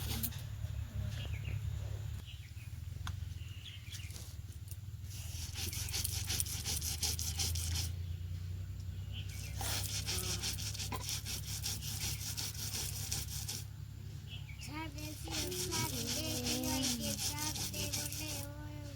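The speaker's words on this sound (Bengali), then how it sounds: "এই যে শিলনোড়ায় ফেলে এবার বাটবো।" Soaked broken rice is ground by hand on a stone grinding slab, giving rhythmic rough scraping strokes in bursts separated by short pauses, close and fairly quiet, with a brief voice near the end.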